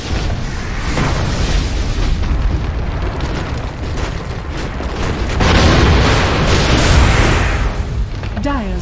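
A Dota 2 shrine is destroyed with a dense, roaring blast that rumbles continuously and surges louder partway through, amid game effects.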